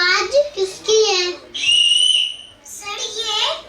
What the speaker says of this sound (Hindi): सर, ये सीटी की आवाज है।